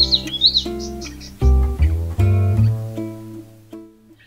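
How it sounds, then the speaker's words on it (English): Bird calls ring out at Mount Field, Tasmania: high chirps open, then several loud, mellow, tonal notes that sound close by and end in a fading call. "the currawongs that are always present in the background"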